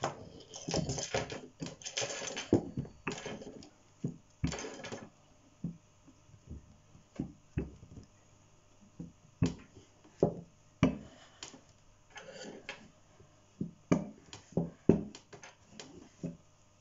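A knife cuts almond pastry dough for cornes de gazelle on a board, producing irregular sharp taps and knocks, some in quick clusters, others spaced apart with quiet gaps.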